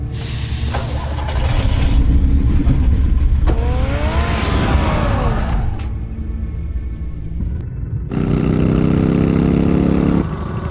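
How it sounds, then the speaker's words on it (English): An in-game car in the Batman Telltale game (Episode 5, City of Light) revs and rumbles loudly, its engine swelling in pitch and then settling, with a second burst of revving near the end and no speech. "Get the car ready, Alfred."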